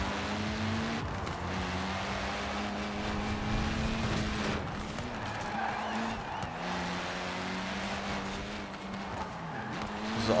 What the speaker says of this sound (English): I'm gonna try out the Lancer Evo 6.